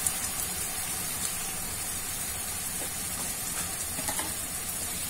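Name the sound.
onion, tomato and garlic frying in a pan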